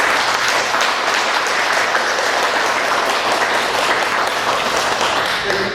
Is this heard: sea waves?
no